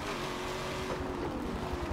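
A Lamborghini engine in Forza 7 holds a steady high rev, a continuous buzzing racing drone with road and tire noise.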